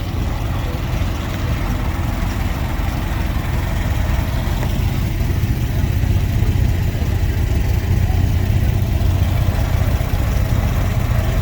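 An old Oldsmobile car engine idles at a fall car show, a steady loud low rumble that continues throughout, close by with some background crowd noise.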